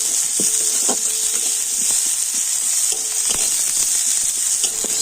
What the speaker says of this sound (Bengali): এখন আমি তেল ভিতরে সমস্ত কিছু একটু ভালো করে ভেজে নেব